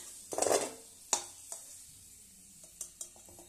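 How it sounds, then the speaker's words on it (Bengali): Food frying lightly in a pan until just pale golden: a quiet sizzle broken by a few sharp utensil clatters and scrapes against the pan, the clatters clustered near the start and again toward the end. "হালকা লাল ভাজা, এইভাবে ভেজে তুলে নিবে আগেই।"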